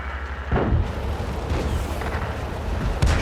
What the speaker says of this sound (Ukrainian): І зараз спробую стрільнути